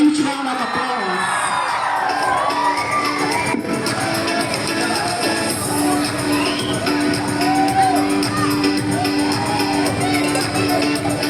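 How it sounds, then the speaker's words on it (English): A school crowd at a Children's Day celebration cheers and whoops loudly to welcome a chef on stage, a sustained roar of children's shouts and cheering with voices mixed in. "Please give him a huge round of applause."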